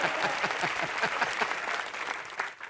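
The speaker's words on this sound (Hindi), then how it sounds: "तालियां।" Studio audience applauding on a comedy talk show set, a dense, steady burst of clapping that stays loud throughout before thinning out near the end.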